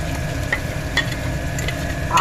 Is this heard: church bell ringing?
no